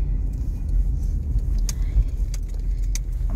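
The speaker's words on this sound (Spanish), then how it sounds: "Vamos en el carro de Luisongo" A car drives along with a steady low engine rumble inside the cabin, light rattles and jingling on top, no talk.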